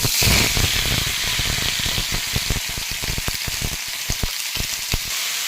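Cut potatoes and a split dried chili dropped into hot oil with five-spice seeds, a loud, dense hissing sizzle full of rapid crackling pops, close up, easing slightly after the first moment.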